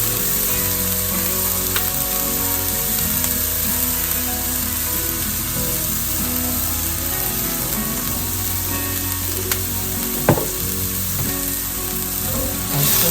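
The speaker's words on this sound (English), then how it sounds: "Saute that for about 30 seconds. Add 1 teaspoon of Italian herb." Italian herbs sautéing in a pan for a creamy lemon pepper tuna fettuccine, giving a steady close sizzle throughout with an occasional faint utensil clink.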